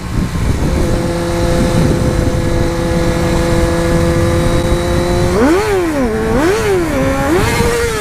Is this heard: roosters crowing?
no